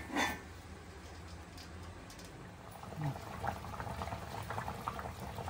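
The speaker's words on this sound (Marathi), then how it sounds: "पाच मिनिटं आपलं चिकन चांगला उकळलंय." Chicken simmering on low heat in a covered pan gives off a soft, steady bubbling hiss, faint and continuous, with a few slightly louder pops and no talking.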